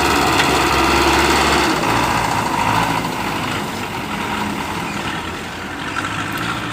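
A Belarus tractor engine roars loud and steady under heavy load as it pulls a laden sugarcane trolley, with a constant rough drone close by and no talking.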